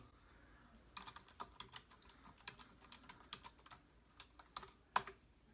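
Rapid typing on a computer keyboard while entering a Minecraft command, irregular bursts of close key clicks with short pauses and one sharper, louder key strike near the end, no speech.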